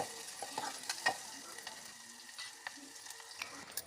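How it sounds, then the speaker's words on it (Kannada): Chopped onions fry in hot oil while a spoon stirs them, giving a soft steady sizzle broken by scattered scraping clicks from the stirring; no voices. "ಅದನ್ನು ಚೆನ್ನಾಗಿ ಹೊಳಸಾಡಿಕೊಳ್ಳಿರಿ. ಚೆನ್ನಾಗಿ ಫ್ರೈ ಆಗಬೇಕು ಎಣ್ಣೆಯಲ್ಲಿ."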